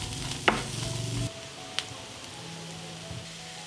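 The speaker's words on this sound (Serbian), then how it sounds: "Na zagrejano ulje dodajem luk, beli luk i sve ću propržiti dok luk ne omekša." Chopped onion and garlic drop into hot oil in a pan and are stirred. A brief clatter comes first, then a soft, steady sizzle with a few light scrapes over it.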